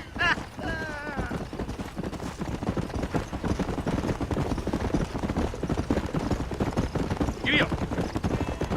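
Horse hooves gallop in the Red Dead Redemption video game, a fast, steady clip-clop rhythm close up with occasional whinnies and a voice speaking over the gallop.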